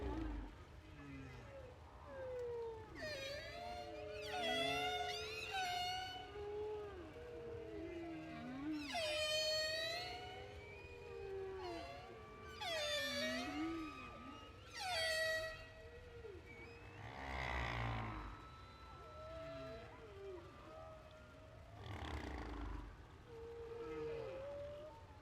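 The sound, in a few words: recording of whale song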